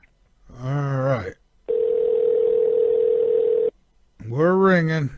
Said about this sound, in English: We're ringing.